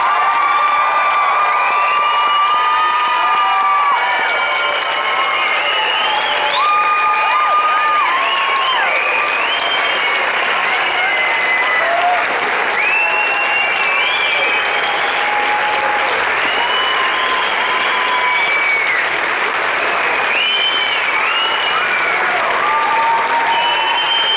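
A spring concert crowd gives a teacher long, loud applause mixed with cheering, whistles and shouts, sustained throughout.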